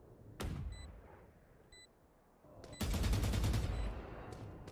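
Rifle fire in the video game Valorant: a single sharp shot, then a longer rapid burst of automatic fire a couple of seconds later, with faint game beeps in between.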